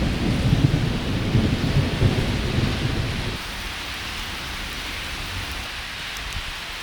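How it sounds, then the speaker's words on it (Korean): Heavy thunder rumbles over a sudden downpour outdoors in Tokyo, the dense rain hissing loudly before the rumble fades and a steadier, softer shower continues alone. "천둥이 와락 울리더니 소나기가 쏟아졌어요"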